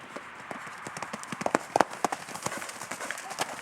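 Horse hooves clip-clop at a trot in an arena riding lesson, a steady quick rhythm of hoofbeats at moderate distance, with an instructor's voice speaking over them.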